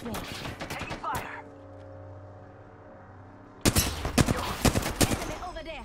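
Gunfire in the battle royale shooter Apex Legends: bursts of rapid automatic shots at the start, a quieter lull with low ambient hum, then renewed loud volleys of fire, close and punchy.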